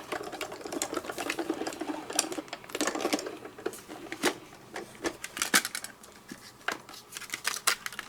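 A die cutting machine runs paper through a Diamond Press A2 sentiments cut-in die, giving a close, steady mechanical whir with rhythmic clicks and ticks throughout, and no voices.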